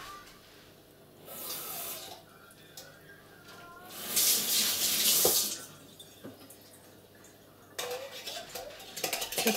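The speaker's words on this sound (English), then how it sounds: "I'm just going to add a little bit of water." Water runs from a kitchen tap in bursts while making sweet potato and coconut soup, with the flow rising and falling amid soft clinks of dishes and utensils.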